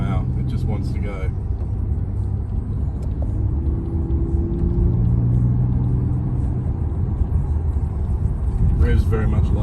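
A Kia Stinger twin-turbo cruises on roads around Wollongong, its engine giving a low, steady rumble under someone talking in the cabin.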